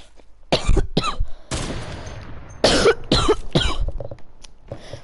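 Several harsh coughs burst out in separate bursts, loud and close, during a gaming session with no talking in between.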